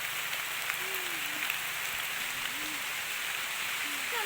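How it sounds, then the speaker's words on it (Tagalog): Steady rain hissing across a broad band, with faint occasional tonal whistles and murmurs in the background. "Naulanan na tayo."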